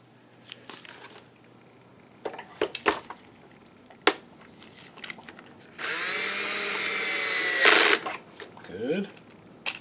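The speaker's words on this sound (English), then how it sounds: "we'll put screws back in" A power screwdriver drives screws back into an Optoma GT1080 DLP projector in one steady two-second whir, preceded by scattered clicks and taps of parts being handled, close up, with a person speaking around it.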